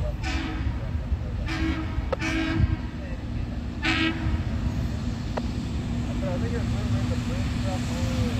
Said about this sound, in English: Ooh, that one's got a bit of a horn.